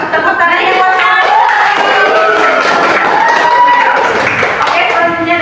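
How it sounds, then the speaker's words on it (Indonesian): A classroom crowd of students applauds and cheers for a presenting group with continuous loud clapping and excited voices mixed together, sustained throughout. "Tepuk tangan yang buat kami."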